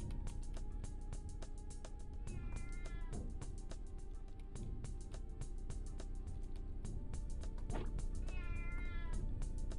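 A cat meows twice, drawn-out calls a few seconds apart, close and clear over a steady, loud background of rhythmic noise and music.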